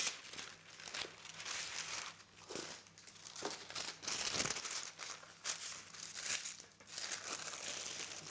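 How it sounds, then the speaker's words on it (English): Parchment cooking paper crinkles and rustles in repeated bursts as it is laid over a quinoa pizza crust, close and fairly loud with brief pauses between handlings. "Put another piece of cooking paper on top of the first one."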